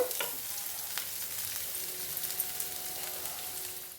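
Onions and crushed garlic sizzle steadily in a hot pan for a Telugu ridge gourd dal, a continuous close frying hiss with a few sharper crackles and occasional stirring scrapes; no one speaks.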